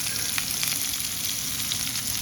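A steak seasoned with Montreal steak spices sizzles steadily in a pan outdoors on a hot day, with a constant bright hiss and faint pops. No one speaks.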